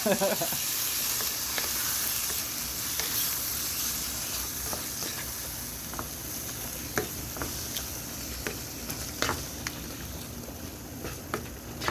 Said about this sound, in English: And saute that with the tomato paste also.